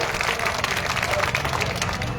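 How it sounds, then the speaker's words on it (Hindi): A crowd at a street protest and sit-in against the Waqf Amendment Act in Rajabazar breaks into hearty applause, a dense, sustained clatter of many hands with crowd voices mixed into the noise. "जोरदार ताली"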